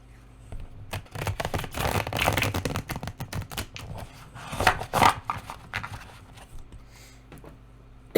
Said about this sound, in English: Let me shuffle them one more time.